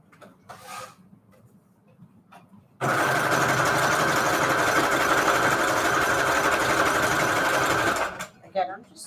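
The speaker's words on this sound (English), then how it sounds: "get my sewing machine ready" A home sewing machine running zigzag stitches through shabby chic fabric and lace scraps for manila tags: a loud steady whirring drone for about five seconds, with quiet handling sounds before and after.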